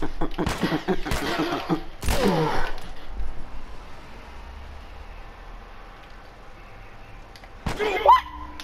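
Gunfire in The Last of Us Remastered on Grounded difficulty: a couple of sharp shots in quick succession near the start and another burst near the end, with a low ambient game rumble between.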